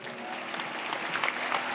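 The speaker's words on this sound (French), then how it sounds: "On applaudit, on a raison de le faire" School audience applauding at an awards ceremony for student laureates, a dense, continuous wash of clapping, steady and moderately loud for a short stretch.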